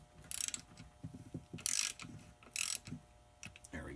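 Transfer case bolts on an NP 205 being snugged up by hand in a crisscross pattern: quiet ratchet clicking in short runs, with a few brighter metallic bursts, close and fairly faint.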